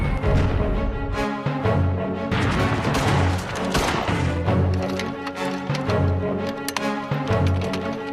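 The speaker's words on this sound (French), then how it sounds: "Avant l'assaut, les deux camps se livrent d'abord à un duel d'artillerie." Artillery bombardment in a WWI trench war reenactment, loud continuous booming and crashing blasts layered over one another without pause.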